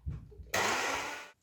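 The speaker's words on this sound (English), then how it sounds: "Switch the blender on." A blender switched on with jerk sauce ingredients inside gives a brief close whirring burst after a soft clunk, lasting under a second before cutting off.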